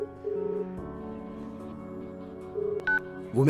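A sequence of telephone keypad tones beeps out at a quick, irregular pace, clear and close, with a rising tone at the very end.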